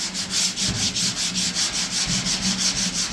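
Coarse 36-grit sandpaper scrubs over body filler on a Chevy C10, a close, loud, steady back-and-forth rasp with an even rhythm of strokes.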